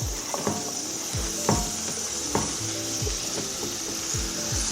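Pork belly for a Filipino dish browns in a pan with a steady sizzle of rendering fat, broken by regular scraping knocks from a utensil stirring the meat, close up and with no voices.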